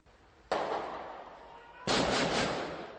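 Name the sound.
bursts of Kalashnikov rifle and revolver gunfire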